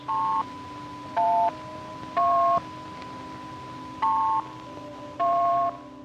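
Telephone network dialing tones route a call: five short, clear two-note musical beeps in an uneven rhythm, each standing out over a steady low line hum.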